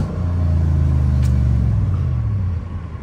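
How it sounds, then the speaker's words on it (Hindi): A deep, throaty V8 car engine with a chambered exhaust rumbles up close, its low, damped exhaust note swelling and then easing off as the revs drop. "चैम्बर्ड एग्जॉस्ट खींच लेता है, आवाज़ को डैम्प कर लेता है"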